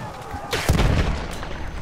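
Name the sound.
tank being shot at in Battlefield 1 video game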